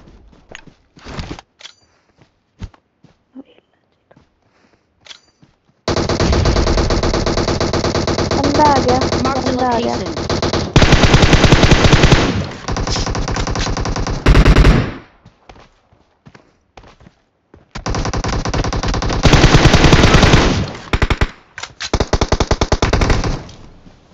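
Sustained bursts of rapid automatic gunfire in a mobile battle-royale shooter game, loud and close, in long rattling stretches separated by brief quiet gaps, with scattered single shots and a player's voice chatting over the action.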